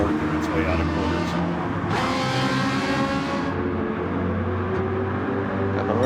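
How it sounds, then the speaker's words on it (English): An American race car in a Gran Turismo 7 online race gives a low, steady engine grumble as it torques out of corners, with commentators talking over it throughout. "I enjoy listening to that low grumble as it's torquing its way out of corners."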